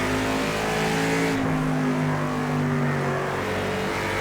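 Car engine sounds from the racing video game Project CARS 2: a sustained high revving engine note with a shift in pitch partway through, loud and continuous, heard alone.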